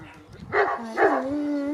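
A Kangal dog gives two short, deep barks close by in quick succession, followed by a brief whining tail in a quiet outdoor setting.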